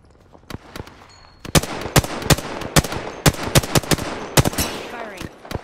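Rapid bursts of gunfire from a vehicle-mounted weapon crack out in an uneven, fast series of loud, close shots, with a short pause early on and a denser run of reports through the rest.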